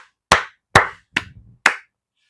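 Four sharp, separate hand claps, close and evenly spaced, in otherwise silent surroundings.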